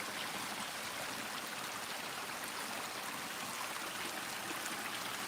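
Water flows steadily in a stream, a constant broadband rush with no breaks and no voices.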